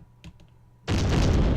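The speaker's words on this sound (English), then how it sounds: "And suddenly explosions everywhere" A sudden loud, sustained blast of video game explosions erupts after a quiet moment with a few faint taps, then roars on continuously at high volume.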